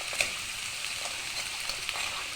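Crab being sautéed in a pan for a home-cooked sautéed crab dish in Palawan, giving a steady, moderate sizzle and crackle with a few sharper pops and no talking.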